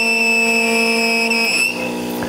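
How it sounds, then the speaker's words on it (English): The mixer motor of a Java Brew 125 coffee machine gives a steady, high-pitched whine with a constant mechanical hum, running continuously and close by, shifting slightly in tone near the end. "That sound you're hearing is just the mixer motor"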